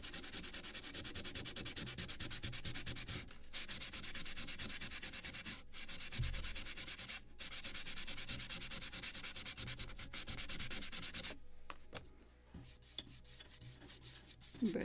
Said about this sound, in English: I will use Scotch-Brite after drilling holes, just to polish it and to remove all that lint and hair from the holes after drilling